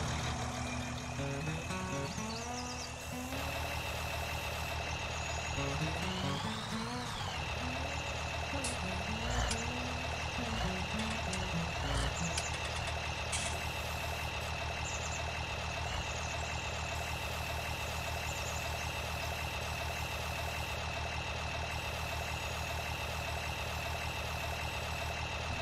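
A tractor engine idles steadily and loudly nearby, its low drone continuous, with a few rises in revs early on.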